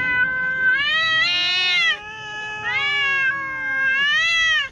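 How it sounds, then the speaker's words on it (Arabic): A cat yowls in two long, wavering, drawn-out cries that rise and fall in pitch, loud and close with no other sounds around them. "إن الصراخ صوت قوي ومتكرر يمكن للقطط أن تصدره عندما تشعر بالضيق أو الألم أو الإجهاد"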